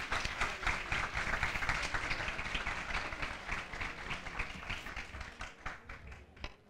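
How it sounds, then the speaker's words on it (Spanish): A school group at a literary event receives dense, sustained applause from an audience in a hall. The crowd claps steadily for several seconds, then the clapping thins into scattered claps as it fades. "Un fuerte aplauso para ellos."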